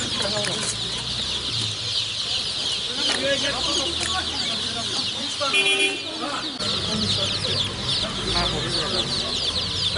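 A dense chorus of many chicks cheeping nonstop, high and shrill, filling the whole stretch with a brief voice heard among them.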